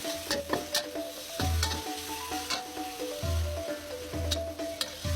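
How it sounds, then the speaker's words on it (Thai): Garlic sizzles in a hot wok for stir-fried pork in oyster sauce, a steady loud crackle broken by repeated clanks and scrapes of a spatula, with no talking. "ใส่กระเทียมลงไปหน่อยนะ"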